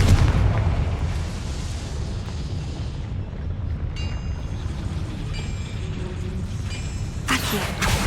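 Deep booming blasts from the Confringo spell in Hogwarts Legacy sound amid rumbling battle noise, with a sharp burst near the end.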